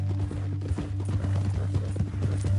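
Horse hooves clip-clopping at a steady walking pace in Red Dead Redemption 2, close and rhythmic over a low droning background, with no talk.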